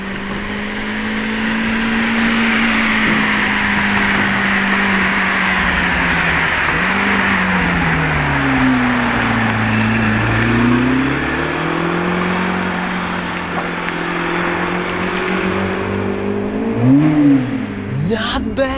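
A Lamborghini sweeps past on the road, its engine note climbing, dipping and climbing again as it nears and pulls away, loud and close, with a sharp rev burst near the end.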